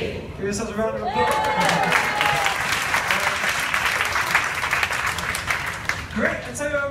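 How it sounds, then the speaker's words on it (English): A live event audience applauds loudly and steadily after a memory exercise, dense clapping filling the space with a few scattered shouts. Speech is heard at the start and end. "Give yourselves a round of applause."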